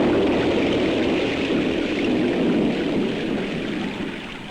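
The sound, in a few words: rainstorm with thunder on a farm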